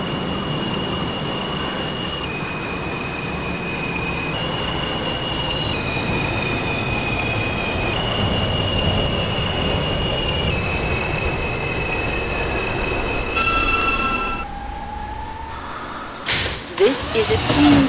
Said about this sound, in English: This is a Queensbound R train